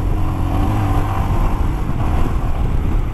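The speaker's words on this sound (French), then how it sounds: "Donc j'accélère un peu." The 411cc single-cylinder engine of a Royal Enfield Himalayan motorcycle thrums close and steady under gentle throttle, a dense low rumble over wind noise.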